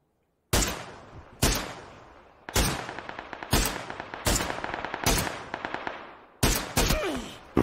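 Gunfire from the Xbox One game PUBG rings out in eight sharp, loud shots spaced roughly a second apart, each with a decaying echo, and no talk over them.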